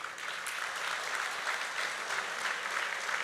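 Steady audience applause fills the room at an evening event, a dense continuous wash of many hands clapping throughout, with no one speaking over it.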